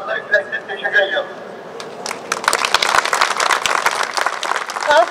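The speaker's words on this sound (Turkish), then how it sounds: "Alkışı duyuyorsunuz." Applause from a crowd gathered at a justice vigil held in Cologne for Turgut Öker, dense claps building after a quieter opening, with voices heard early and in the background.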